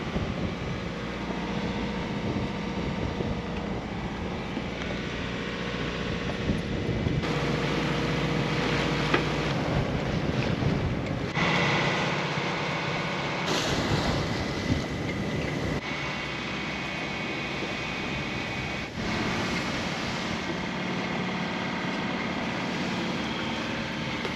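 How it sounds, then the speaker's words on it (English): A boat rounds a cape in about 20 knots of wind over big swells, leaving Peniche; steady loud broadband rush of wind and water with engine drone fills the whole stretch, no talking. "Coming around the Cape now, and we've got around 20 knots of wind and some quite big swells"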